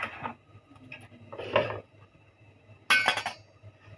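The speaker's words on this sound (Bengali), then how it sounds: "আমি এখানে মুরগির মাংস রান্না করার জন্য পাতিলা বসাই দিচ্ছে" A metal cooking pot set down on a gas stove for chicken curry, three separate clanks and scrapes of metal on the burner grate, close and fairly loud with quiet pauses between.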